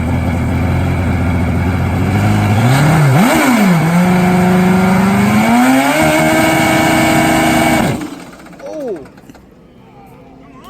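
A 1990 championship-winning Kawasaki KZ drag racing motorcycle with mechanical fuel injection, revving loudly up and down up close for several seconds before cutting off, followed by a brief blip and quiet.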